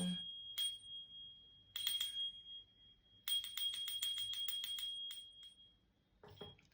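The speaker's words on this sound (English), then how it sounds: "Then our cleansing bell." A small bell rings with a clear high tone, struck once, then again, then in a quick run of repeated dings that slowly fade; close and quiet.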